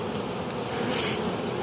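A steady, close buzzing drone of many honeybees flying around a Flow Hive, continuous and fairly loud with no voices.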